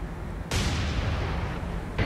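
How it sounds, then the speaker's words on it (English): Japanese warships fire anti-aircraft guns in the naval combat game War on the Sea, a sudden loud burst of dense rumbling gunfire that holds steady, then a second burst kicks in at the end. "they are unloading their anti-aircraft guns already"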